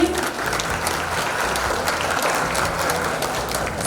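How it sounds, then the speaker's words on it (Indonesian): An audience at a city council plenary session celebrating the council's 112th anniversary claps steadily and loudly, with a full, even applause that lasts several seconds and never lets up. "Boleh tepuk tangan Bapak Ibu sekalian."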